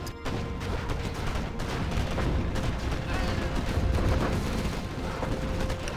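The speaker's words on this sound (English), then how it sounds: "Do hear the artillery from the China player." Artillery fire from a China faction in a real-time strategy video game booms and crackles in dense, continuous volleys, with overlapping gunfire forming a loud wall of battle noise.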